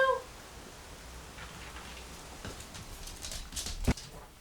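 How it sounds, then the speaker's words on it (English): Rain begins falling outside an abandoned Italian farmhouse, a soft, steady patter and hiss with a sharp knock near the end. "Oh, it started raining."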